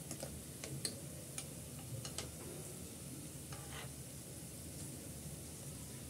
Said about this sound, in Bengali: আলতো হাতে একটু নেড়ে চেড়ে দিচ্ছি।